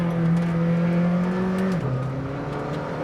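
McLaren GTR race car engine, loud and close, holding a steady high rev before dropping sharply in pitch and settling into a lower drone.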